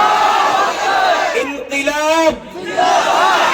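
Large crowd at an election campaign rally roaring a loud unison chant in response to the Nara-e-Takbir slogan, voices swelling and dipping in rapid, energetic bursts.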